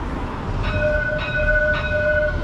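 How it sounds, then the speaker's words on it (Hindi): A metro train runs on street-level tracks down the middle of a road in Mauritius and rumbles steadily close by. A few short tonal horn or bell notes sound over the traffic noise. "ये जा रही है यहाँ की मेट्रो"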